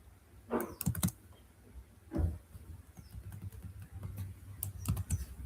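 Computer keyboard typing while writing Python code: bursts of close key clicks in uneven clusters, with quieter patches between, over a low steady room hum.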